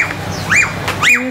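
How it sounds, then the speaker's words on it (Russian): Caged small birds on hotel grounds give two quick rising-and-falling chirps, close and fairly loud, with a faint background hum. "Мы проходили клетку с птичками."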